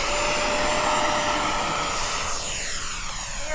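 A model airplane engine at a flying field roars close and loud, its pitch sweeping as the throttle changes near the end.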